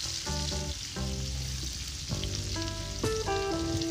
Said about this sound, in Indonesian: bawang putih, bawang merah dan jahe pot yang sudah kita potong, kita tumis sampai berbau harum